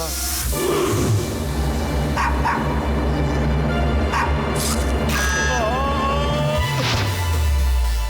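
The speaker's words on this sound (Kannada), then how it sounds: "ಬ್ಯಾಕ್ ಗ್ರೌಂಡ್ ಅಲ್ಲಿ ನಾಯಿ ಬೊಗಳ್ತಾ ಇದೆ." A dog barks a few times in the background, partly buried under a dense, continuous wash of music and noise.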